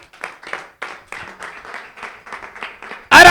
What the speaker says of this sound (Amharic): ኧረ አጨብጭቡ በደምብ።